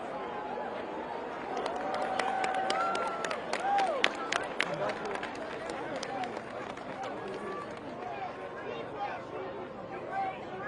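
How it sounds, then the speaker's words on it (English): Crowd applause at a Washington, DC protest rally against Russia's invasion of Ukraine: scattered claps swell into steady clapping with cheers and chatter, then thin out, over constant outdoor crowd murmur. "Please give her a round of applause."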